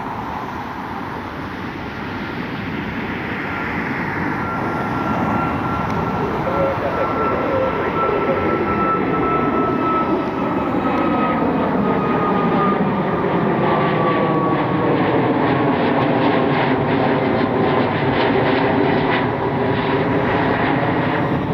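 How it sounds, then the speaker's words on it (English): A United Airlines Boeing 737 MAX 9 jet roars steadily for about twenty seconds, with a sustained engine whine and a pitch that slowly shifts as it passes. Some talk can be heard faintly beneath the engine noise. "United Airlines Max 9 heading to Chicago."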